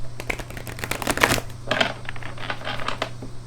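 Tarot cards being shuffled by hand in quick riffling bursts, close and crisp, with short pauses between the flurries over a low steady hum.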